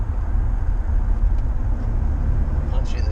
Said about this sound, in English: Punch in the turbo diesel Toyota Hiace